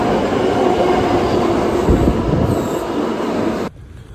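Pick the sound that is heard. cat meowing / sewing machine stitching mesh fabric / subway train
subway train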